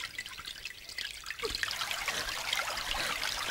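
Water trickles and pours steadily from a small cup in the video game Rule of Rose, a continuous faint splashing stream with no one speaking.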